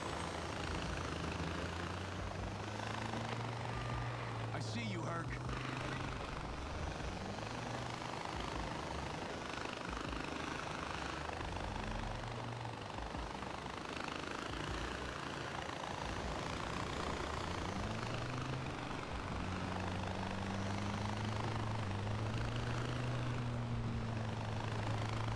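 A helicopter in the Far Cry 4 video game drones steadily throughout, its rotor and engine hum holding at a constant moderate loudness with no talk over it.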